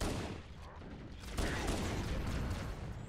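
Continuous rapid gunfire from the video game Halo while shooting monsters in co-op play, dense and loud with mechanical clatter throughout, no voices over it.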